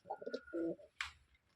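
Rajshahi Giribaj pigeons coo in short bursts, close and clear, with a brief wing flutter or rustle near the end and no talking.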